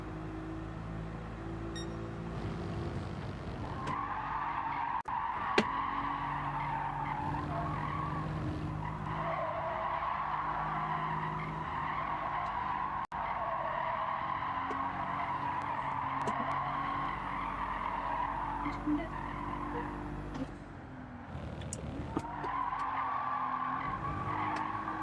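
Tires skid and squeal continuously as a car drifts in a racing video game, the engine droning underneath at close range, with the squeal briefly dipping and returning near the end.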